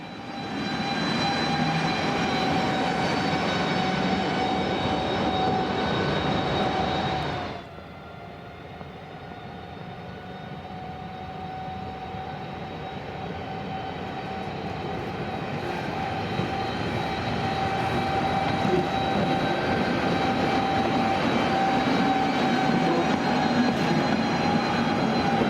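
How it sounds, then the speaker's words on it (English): A railway locomotive runs around its two BTX trailer cars at Lipno, a steady loud diesel engine drone with a shift in tone partway, holding close and constant throughout. "Here the loco runs around its 2 BTX trailer vehicles at Lipno."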